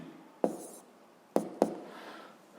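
Chalk or pen writing out a physics problem solution: three sharp, quiet taps, the last two close together, over a faint room hush.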